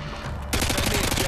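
ACR assault rifle firing in Modern Warfare 2, a sudden continuous burst of rapid automatic gunfire from the game over a low background.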